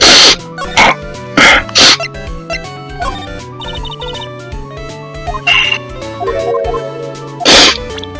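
Loud, close sneezes burst out repeatedly, a quick pair near the start and another near the end, over steady game music and effects with no talk.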